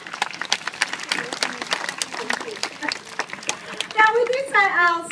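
Audience at a zoo bird show clapping, a scattered patter of claps under a voice, followed by higher-pitched children's voices calling out near the end.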